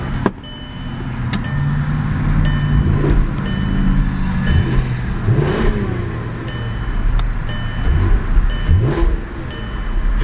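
A 2008 Audi TT 3.2 Quattro's 3.2-liter V6 runs loud and close, its exhaust note swelling through several quick revs and dropping back between them, with no talk over it.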